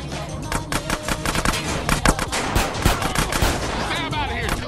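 Rapid drive-by gunfire in the video game GTA San Andreas: The Definitive Edition, a dense burst of shots fired in quick succession, loud and close, with faint game sounds mixed underneath.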